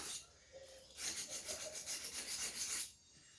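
Knife blade sharpened on a fine whetstone: a close, quick series of rhythmic rasping strokes lasting about two seconds after a brief lighter scrape, then quiet.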